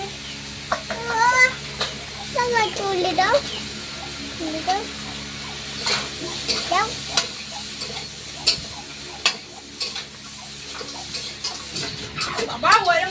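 Vegetables tipped into a pan of oil already seasoned with turmeric and salt, giving a modest sizzle with scraping stirs and clicks, while birds chirp nearby in an outdoor Sundarban village kitchen.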